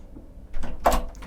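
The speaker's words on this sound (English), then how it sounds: "is they've installed a second door here, so you can close that one off," The second cabin door aboard a Sunseeker 95 yacht shuts with a quiet slide and then a firm close-up thud, followed by a faint settling rattle.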